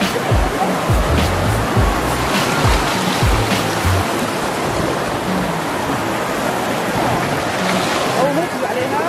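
Water gushes steadily from a spring at Ras al-Ain in an outdoor nature setting, a loud continuous rushing flow that fills the whole stretch, with voices talking faintly underneath.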